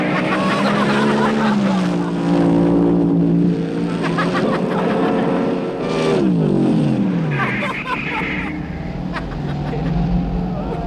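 A car engine in an old Australian TV commercial as the car drives toward an ordinary home garage door, revving and shifting in pitch over a few seconds while a narrator talks over it.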